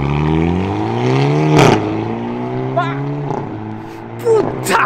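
Hyundai i30N hot hatch engine revving and pulling away, heard from outside the car, with a rising engine note that dips at a gear change and then climbs again, loud and close, with short exclamations from people nearby.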